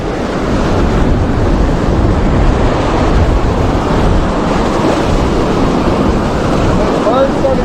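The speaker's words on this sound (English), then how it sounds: "strong current to surf, 3 to 4 foot waves" Surf breaking on a beach with a strong current and 3 to 4 foot waves, a steady loud broadband wash with wind buffeting the microphone throughout, no distinct individual crashes.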